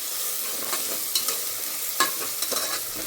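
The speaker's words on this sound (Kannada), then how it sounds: "1 ಸ್ಪೂನ್ ಶುಂಠಿ ಬೆಳ್ಳುಳ್ಳಿ ಪೇಸ್ಟ್ ತೊಗೊಂಡಿದ್ದೀವಿ. ಅದು ಚೂರು ಹಸಿ ವಾಸನೆ ಹೋಗೋ ತನಕ ಚೂರು ಲೈಟಾಗಿ ಹುರ್ಕೊಬೇಕು" Ginger garlic paste frying in a pan with a steady broadband sizzle, and a few sharper scrapes of stirring breaking through at intervals.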